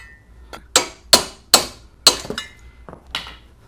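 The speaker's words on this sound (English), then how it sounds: "Tap them out with a hammer." A hammer taps crash tubes out of the front end of a Mini Cooper S (R-series) during engine removal, giving about seven sharp, ringing metallic strikes in an uneven rhythm with short gaps.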